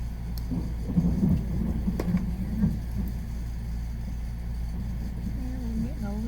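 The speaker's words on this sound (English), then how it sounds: "We're getting a little rainstorm here." A Texas rainstorm brings a low, continuous rumble of thunder under a steady wash of rain, with a few louder swells early on and brief faint sounds over it.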